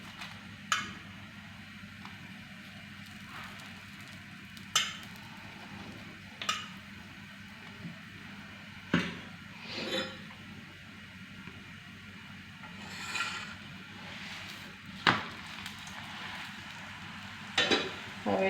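A mooli paratha cooks with ghee on a hot griddle, giving a low, steady sizzle with scattered sharp ticks and pops throughout, close and moderately quiet, with no talking.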